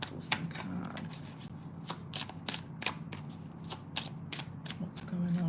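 Tarot cards shuffled close by at a reading, a steady run of crisp papery riffles and flicks at a moderate pace, with a soft voice murmuring in the background.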